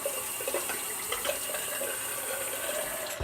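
Water runs steadily from a tap for a quick rinse during a straight-razor Swedish shave, a constant hiss and splash heard alone and close for a few seconds.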